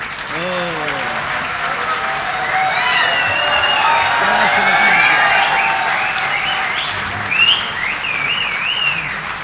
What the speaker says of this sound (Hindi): ज़ोरदार तालियों से इस्तकबाल कीजिए जनाब डॉक्टर राहत इंदौरी साहब।